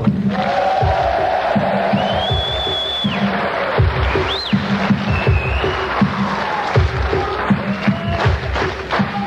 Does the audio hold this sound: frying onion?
no